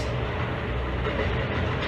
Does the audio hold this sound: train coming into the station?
yes